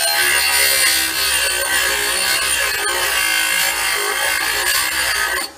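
Warrior sawmill blade tooth being sharpened with a power grinder, a loud, steady, bright grinding whine that holds evenly for several seconds and then cuts off abruptly at the end.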